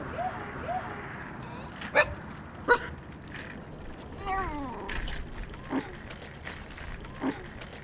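An excited puppy gives several short yips and barks at close range over a low background, with people talking nearby.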